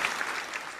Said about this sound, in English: let's give her another big round of applause, everybody